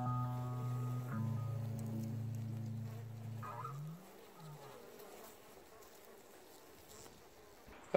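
Honey bees in a winter hive in Newfoundland, disturbed while sugar is slipped in, give a close, loud droning buzz with steady humming tones that slide and fade into a fainter, lower hum.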